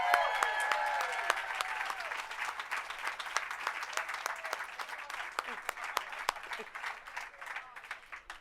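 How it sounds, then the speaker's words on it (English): A crowd at a Hollywood Walk of Fame ceremony claps, starting with a burst of applause and cheering voices that thins into scattered, fading claps, heard from a distance. "Let's give her another big round of applause"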